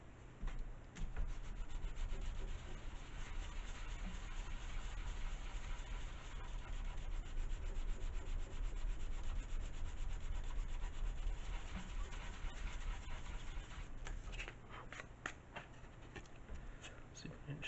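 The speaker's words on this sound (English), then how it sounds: "Or I can sand it now." Sandpaper rubs steadily back and forth across a model aircraft wing, a continuous close scratchy hiss running throughout, with a few sharper scrapes near the end.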